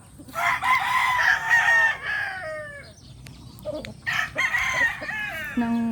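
Roosters crow in drawn-out calls, one after another, with hens clucking around them in a busy, close farmyard.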